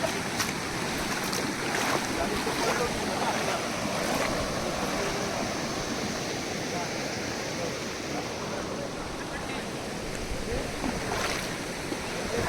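Stream water rushing steadily as it is crossed on a rural hill trail, a broad continuous wash of flowing water close by with occasional splashes, a voice faintly audible in the background.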